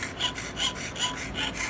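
A jeweler's saw cuts a workpiece in a steady rhythm of soft rasping strokes, roughly four or five in quick succession, close by and alone.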